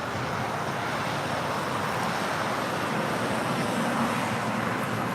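Alaska Airlines Boeing 737-800 arriving at LAX: a steady, continuous broadband jet roar, fairly distant and even in level throughout, with no talk over it.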